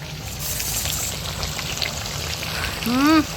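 Meat cooking in a pan, a soft steady sizzle and frying hiss, with a brief voice-like tone rising at the end.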